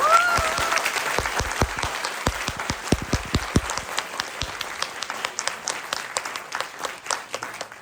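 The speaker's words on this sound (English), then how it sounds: "So one more round of applause." Audience applause at an awards ceremony following a closing speech, with dense clapping that builds early and then thins to scattered claps before tapering off.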